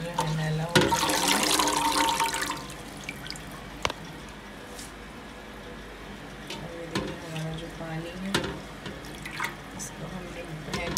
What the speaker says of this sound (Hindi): फिर दोबारा हम इसको एक पानी से वॉश करेंगे